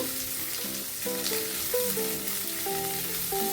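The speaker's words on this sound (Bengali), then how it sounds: "দেওয়ার পর আমি আবারও সমস্ত উপকরণ একবার নাড়াচাড়া করে নেব" Capsicum and carrot stir-fried in a pan for egg chowmein, a steady close sizzle with scraping stirs, while a melodic music track plays throughout.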